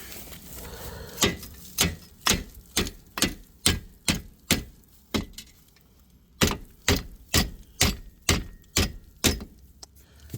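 Metal door latch on an old cargo trailer being worked over and over, a series of sharp close clacks in a steady rhythm, a short pause, then another run of evenly spaced clicks, with no talking.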